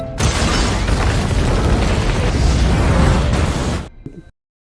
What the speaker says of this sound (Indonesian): langsung meledakkan bom yang sebelumnya telah dia pasang di